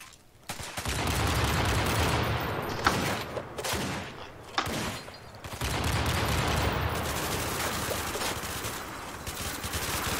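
Video game gunfire in a sandbox shooting session: long stretches of rapid automatic fire, loud and continuous, broken by a few brief pauses and single sharp shots.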